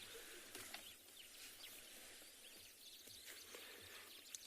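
Birds call and chirp faintly at sunrise in a mountain valley on safari, scattered short calls over a quiet, hissy background with no talk.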